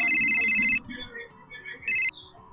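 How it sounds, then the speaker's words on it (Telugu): A phone ringtone for an incoming call chimes in two bursts, a long one and then a shorter one, loud and close over faint background chatter. "ఒకసారి మదనన్నకైతే కాల్ చేస్తావు"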